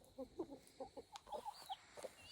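A barred rock type chicken on a homestead clucks in a series of short, soft, evenly spaced calls, fairly close, with no talking over them.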